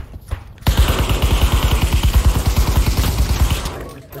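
Sustained rapid gunfire in a video game, a fast, evenly pulsing burst of loud shots lasting about three seconds before cutting off.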